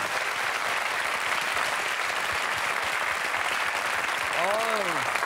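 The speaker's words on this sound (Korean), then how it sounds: "박수 한번 보내주세요" A studio audience at a Korean television variety show applauds a decorated Vietnam War platoon leader with steady, even clapping, and a voice rises in an exclamation near the end.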